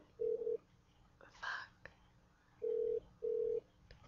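A phone call to Walmart rings through a handset, with three steady tone bursts heard clearly and faint background noise between them. A brief whispery sound falls between the first and second rings.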